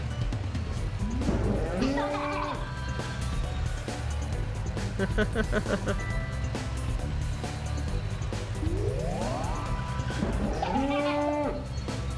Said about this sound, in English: Steer go-kart by going left and right.